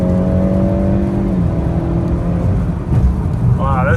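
A 2022 Honda Accord 2.0T accelerating hard, engine note climbing in pitch with a steady rising drone and road rumble from inside the cabin, a voice talking over it.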